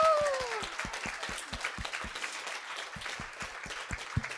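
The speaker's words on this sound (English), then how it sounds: "And a big applause to all of you for coming." Scattered audience applause at a women's leadership forum conference, sparse individual claps spaced fairly evenly over a soft crowd murmur, moderately loud and close, with a brief voice or tone fading at the start.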